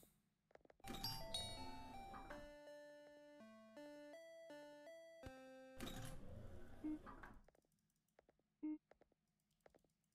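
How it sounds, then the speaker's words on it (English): A shop bell in a store video game rings out as a bright melodic jingle of sustained electronic tones, with a couple of brief chimes and clicks following. "The bell sound's gonna be stuck in my head all tonight."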